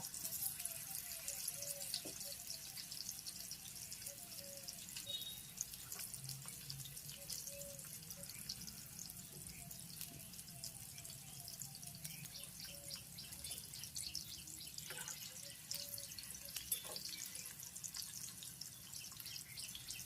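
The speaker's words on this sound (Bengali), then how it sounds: "এবার আমি দিয়ে দেব চিকেনের পিসগুলো। এগুলো ভালোভাবে হালকা আঁচে আমরা ভেজে নেব।" Chicken pieces frying in hot oil on low heat, with a faint, steady crackling sizzle and scattered small pops and bubbling throughout, no talk.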